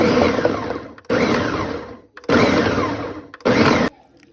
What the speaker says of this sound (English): I like my salsa a little chunky, so I like to pulse it.